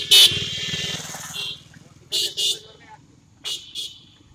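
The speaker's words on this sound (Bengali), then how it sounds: "এক মিনিটে কতগুলো মোটরসাইকেল দেখেন" Motorcycles passing along a busy road: a low engine drone underneath several short horn toots spread across the moment, with someone talking over the traffic.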